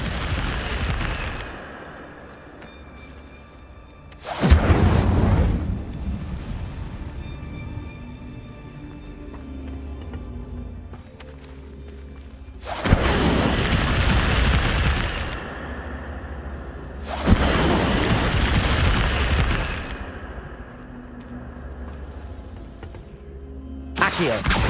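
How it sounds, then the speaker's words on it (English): Incendio fire spells cast in the fantasy game Hogwarts Legacy: three loud, broad whooshing blasts spaced several seconds apart, each ringing out briefly over a steady low game ambience, with no speech. "Incendio!"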